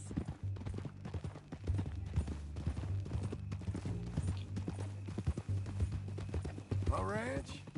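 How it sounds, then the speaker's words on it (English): In Red Dead Redemption 2, hooves clip-clop steadily at a walking pace under a men's conversation about a new horse. A brief whinny rises near the end. "Is that a new horse?"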